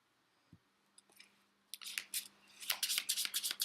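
Someone shuffles cards by hand for the Clank! board game. After a few faint taps, quick papery bursts of riffling grow louder toward the end in a quiet room.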